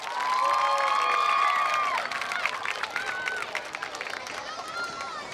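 Cheerleaders' cheer and dance routine at a WDHS high school football game against Camden Catholic: a crowd cheers and shouts loudly, with high yells and whistles, then the noise settles into scattered chatter and claps.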